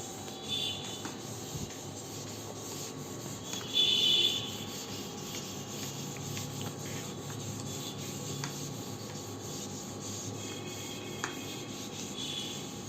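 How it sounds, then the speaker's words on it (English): Classroom board being wiped clean, a continuous close rubbing and scraping that rises briefly louder partway through, with faint background noise and no talking. "now I am going to rub the board and I'll do exercise number 5"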